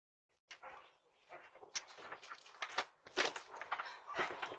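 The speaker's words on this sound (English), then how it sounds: "my dog is barking." A dog barks indoors in a few sharp bursts with some whimpering and shuffling, moderately close but fairly quiet, starting after a short silence.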